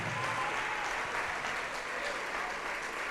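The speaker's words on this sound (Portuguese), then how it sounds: "vamos aplaudir ao Senhor Jesus por cada vida que está chegando" A church congregation applauds steadily, a dense wash of many hands clapping at even loudness for a few seconds, with faint voices underneath.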